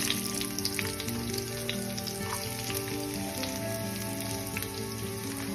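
Onion, red and green chillies and garlic sizzle in a pan for peanut chutney, a steady, fairly faint crackling fry with a few sharper pops and no voices.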